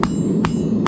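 Three sharp, evenly spaced hammer strikes ring out on a maker stamp during the forging of a hunting knife, close and loud against a low background hum.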